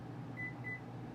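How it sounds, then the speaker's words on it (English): Two short electronic beeps come from a microwave oven's buttons, quiet, close and spaced about a quarter second apart over a low steady appliance hum. "You don't want to try and press the microwave button in"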